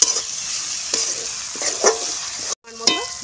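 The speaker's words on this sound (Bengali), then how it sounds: "ভালো করে ভেজে দেবো।" Onion frying with ginger-garlic paste in a pan, a loud sizzle broken by spatula stirs and scrapes, with a brief cut-out near the end before the frying resumes.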